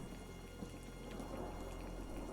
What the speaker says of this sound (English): I gotta get rid of the rain sound